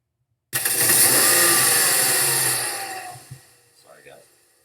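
An engine fires up with a loud roar, revs high for a couple of seconds, then winds down and settles, with a faint voice near the end.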